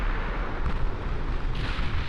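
Secondary naval guns firing during a battle in the video game Ultimate Admiral Dreadnoughts, heard as a dense, continuous rumble of overlapping booms and distant blasts, loud and sustained with no clear breaks and no voices.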